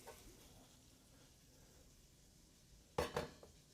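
A pan scraped and set down on a stove top during holiday cooking, a short clattering metal knock after a quiet stretch of low kitchen hum.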